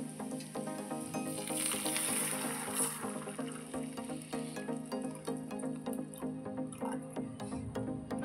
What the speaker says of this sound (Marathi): आता ह्याच्यामध्ये आपण पाणी ॲड करूया।